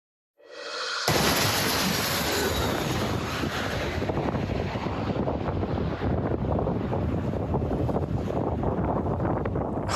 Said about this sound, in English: You can also hear the wind howling in that video.